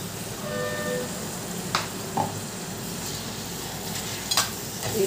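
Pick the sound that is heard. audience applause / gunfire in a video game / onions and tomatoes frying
onions and tomatoes frying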